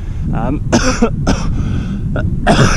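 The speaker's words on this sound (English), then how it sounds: "Don't be fooled by the cough, it is just a tickler." Several sharp coughs burst out in uneven succession, loud and close, with throat-clearing sounds between them.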